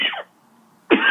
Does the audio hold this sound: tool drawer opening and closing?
no